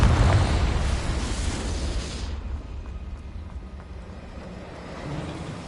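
A Confringo spell goes off in the Hogwarts Legacy video game, a loud fiery blast and burst in the first two seconds that fades into a lower rumbling tail.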